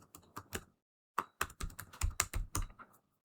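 Someone types a command on a computer keyboard while installing Redis on Windows 11. A few quick key clicks come first, then a brief pause, then a denser burst of crisp, close keystrokes.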